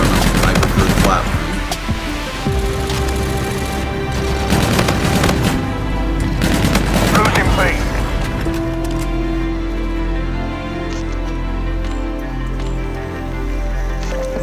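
Rapid bursts of NV4 Flatline rifle fire in Call of Duty: Infinite Warfare multiplayer, loud and close, layered with game effects and someone talking over the action.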